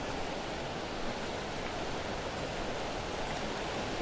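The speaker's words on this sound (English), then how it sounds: "Sound of the waves," Water waves lap at a shoreline in a steady, unbroken rush of broadband hiss, soft and constant with no distinct breaks or voices.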